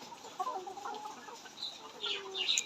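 Farm chickens cluck nearby in a series of short, irregular calls, with a few higher chirps near the end over a quiet background.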